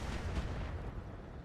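Mech weapons in BattleTech fire in a heavy, continuous roar of booming cannon and rumbling blasts, loud and dense throughout with no clear gaps.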